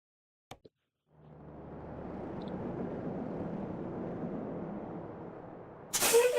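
In American Truck Simulator, a truck's air brakes release a long, steady hiss of air that lasts several seconds, followed by a brief sharp burst at the end.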